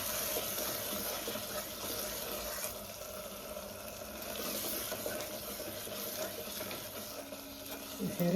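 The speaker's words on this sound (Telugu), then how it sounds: "ఇప్పుడు కొత్తిమీర వేసేసి ఒక్కసారి కలుపుదాం" A spoon stirs drumstick masala curry in a pan right after coriander leaves go in, giving a steady soft sizzle and scraping that runs throughout at close range.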